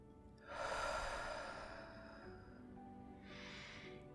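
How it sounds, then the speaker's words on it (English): A single slow, deep breath in through the nose and out through the mouth: a loud, close inhale followed by a softer, quieter exhale, with no talk during it. "Take a deep breath in through the nose and out through your mouth."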